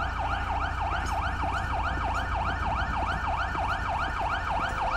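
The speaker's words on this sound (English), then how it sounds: "is it my vehicle siren that's going off still?" A police patrol car siren in GTA 5 wails in a steady, fast repeating up-down sweep, loud and continuous with no talk over it.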